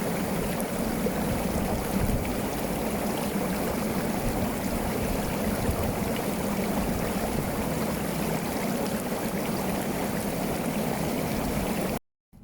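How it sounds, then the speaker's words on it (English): Bestway Lay-Z-Spa inflatable hot tub with its bubble jet running, a steady dense roar of churning, fizzing water that fills the whole stretch without a break, then cuts off abruptly at the end. "I do this using the Spa Jet or the Bubbles tool"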